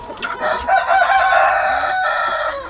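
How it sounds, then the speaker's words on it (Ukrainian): Turkey hens in a poultry yard during the mating season, calling in loud, overlapping bursts that carry on steadily throughout, with no talking. "Ось вам наглядний приклад, як ведуть себе індички в час, коли вони хочуть уже щоб їх покривали самці"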